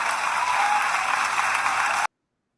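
Dense, steady applause of many hands clapping at once, fairly loud and even for about two seconds before cutting off abruptly into silence.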